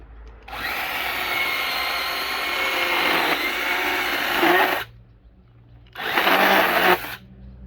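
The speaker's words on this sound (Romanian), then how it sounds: "Luăm una bucată creangă, da, și încercăm să o tăiem" A Parkside PGHSA 20-Li cordless mini chainsaw cuts a branch in two loud, close bursts of steady motor whine, one long and one short, with a brief pause between them.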